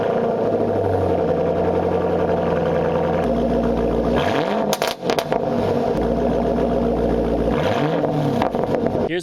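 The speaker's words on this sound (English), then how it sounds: "Here's what it sounds like with an off-road H-pipe." A loud, close idle from a 2005-2009 Ford Mustang running an off-road H-pipe with axle-back exhaust, broken by two quick throttle blips that rise and drop back into a deep, lumpy burble; no voices.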